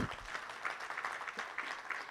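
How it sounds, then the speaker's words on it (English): A conference audience at a social protection dialogue claps in a light, fairly faint patter, brief and somewhat distant. "Can we clap better than that?"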